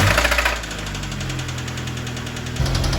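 A car starter motor rattles and throbs close by, giving a steady mechanical hum with a light knocking rattle throughout and a slight surge at the end.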